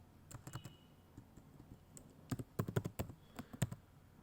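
Someone types C code on a computer keyboard in quick, uneven bursts of close key clicks, sparse at first and then a dense flurry of strokes, with faint room tone underneath.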